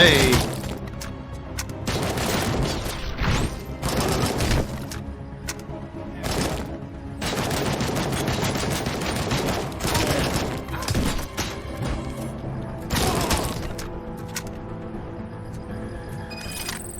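Repeated bursts of AK rifle fire in the RoboCop: Rogue City video game, loud and sharp, arriving in several clustered volleys with brief pauses between them over a steady background din.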